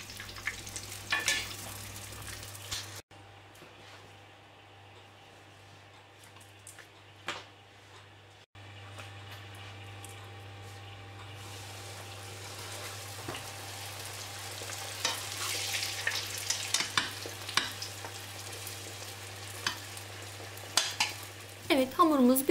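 Langos dough fries in hot oil in a pan, a soft continuous sizzle with a faint low hum beneath, briefly dropping quieter before the crackle returns and grows busier, with a few light clinks of utensils.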